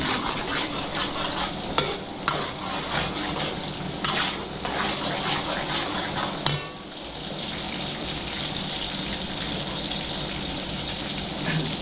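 Garlic and onion fry in oil with a dense, continuous sizzle close by, overlaid with brief stirring clatters and a watery hiss that carries on steadily.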